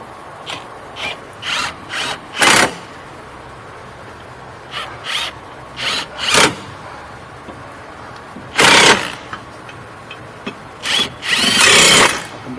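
Electric impact gun running down hub bolts on a Chevy Equinox rear hub assembly, with repeated short, loud whirring and hammering bursts separated by quiet pauses, alone without talk.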